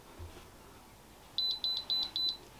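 A Freesub ST-210 mug press gives a series of short, high electronic beeps, about five in a quick regular pattern, close and fairly loud against a quiet room.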